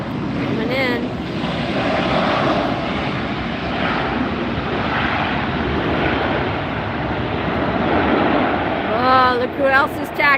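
A Delta airliner landing at LAX, a loud continuous jet roar that swells and holds close by, with brief voices at the start and near the end.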